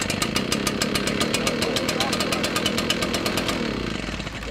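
A gas-powered leaf blower engine runs steadily just after a pull start, loud and close, with a rapid throbbing pulse that holds for several seconds before easing off slightly at the end.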